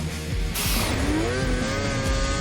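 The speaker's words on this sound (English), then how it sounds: "Steve Medrano hopes to match Jay's achievement on his highly modified 160-horsepower" A highly modified 160-horsepower snowmobile engine roars loud and close, its pitch sweeping upward as it accelerates hard in the Utah backwoods, a steady high-revving drone throughout.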